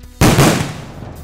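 A grenade goes off close by during a police exercise, one sharp loud blast that rolls off into a fading rumble.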